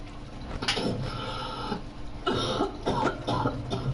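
Coughing sounds in a Roblox game, a few rough bursts over a steady mechanical whirring hum, near and moderately loud.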